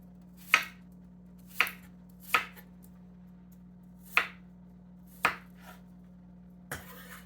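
A knife chops kale salad ingredients small on a board in six sharp, separate strikes spaced about a second apart, crisp and close against a low steady hum.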